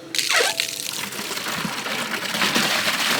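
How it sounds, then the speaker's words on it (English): Hot water gushes steadily from an outdoor spigot plumbed to a house water heater, filling a container with a continuous close splashing rush. "Now this is a hot water spigot I installed on my house."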